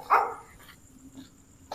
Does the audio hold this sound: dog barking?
yes